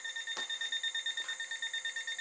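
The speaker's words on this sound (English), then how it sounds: "Reset the timer." A timer alarm beeps in a rapid, steady pulse, faint and electronic, repeating evenly for over two seconds with a couple of soft knocks in the room and no speech.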